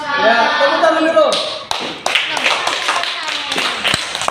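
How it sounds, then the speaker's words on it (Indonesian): Classroom applause from students after a group presents its work, a burst of mixed claps and taps following a teacher's voice, fairly close and lasting a few seconds. "Ya, tepuk tangan dulu."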